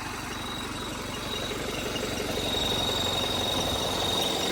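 A 75 HP tractor engine idles steadily at close range, a continuous low rumble with a faint knocking throb, holding an even loudness throughout without voices.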